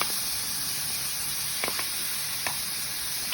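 Breaded cutlets fry in butter or ghee in a pan, giving a steady, quiet sizzling hiss with a few soft pops and crackles and no talking.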